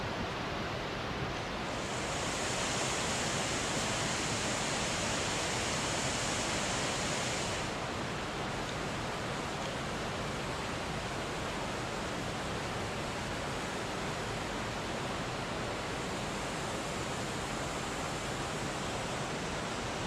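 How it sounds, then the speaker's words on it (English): Seljalandsfoss, a 65-metre waterfall plunging down steep former sea cliffs at Eyjafjöll in Iceland, gives a steady, dense roar of falling water that fills the whole clip with no voices. "The 65-meter-high waterfall Seljalandsfoss is one of many waterfalls falling down the steep former sea cliffs at Eyjafjöll."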